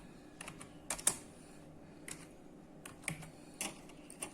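Keys tapped on a computer keyboard in short irregular bursts of crisp clicks with pauses between, close and quiet, nobody speaking.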